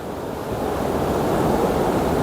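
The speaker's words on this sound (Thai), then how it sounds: "ได้ยินเสียงคลื่นทะเลนะครับ" Sea waves wash onto a beach at Khao Lak National Park in Phang Nga, southern Thailand, with rocks standing offshore. The surf is a steady, broad roar that swells slightly louder, with wind buffeting the microphone and no voices.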